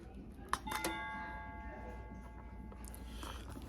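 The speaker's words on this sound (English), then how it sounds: "But this is the doorbell." A classroom doorbell rings with a single chime that sustains and decays over a few seconds, heard through steady room noise with faint background voices.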